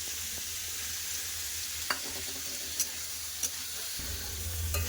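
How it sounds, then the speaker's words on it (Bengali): Carrots and potatoes sautéing in a pan with peas added give a soft, steady sizzle, broken by a few light spatula taps and a low rumble near the end. "গাজর আলুটা ভালো করে কষে নিচ্ছি তাতে মটর দিয়ে দিচ্ছি"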